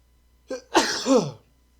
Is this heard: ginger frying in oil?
no